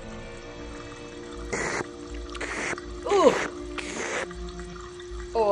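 Water fountain in the Thimbleweed Park point-and-click game: a few short, harsh bursts of game sound effect over steady background music, with a brief exclamation from a player.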